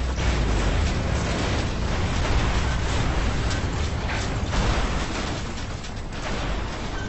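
Thermal rocket explosions tearing down towers in Red Faction Guerrilla, a continuous loud roar of blasts and crumbling debris filling the whole stretch, dense and close with no clear gaps.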